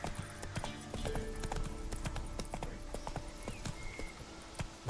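Hooves of the horse Roach clip-clopping at a walk in The Witcher 3, a steady rhythmic clatter of footfalls over soft game ambience, no speech.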